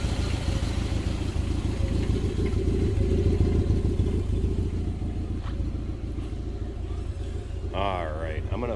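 A 1966 Amphicar 770 engine idles steadily close by with its compartment open, a constant low rumble and light mechanical clatter, with a brief speaking voice near the end.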